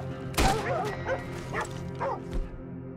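A dog in the video game Red Dead Redemption 2 barks a few times in quick bursts, close and fairly loud, with a low background hum throughout.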